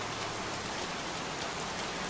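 Steady, dense rain pours down in a broadband hiss with no break, soaking a scene in the Heavy Rain video game on PS4; the downpour is continuous and even, with no talking.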